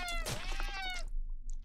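A cat in a box in the video game Slayaway Camp gives one clear, drawn-out meow with a falling pitch, then quiet with faint small sounds.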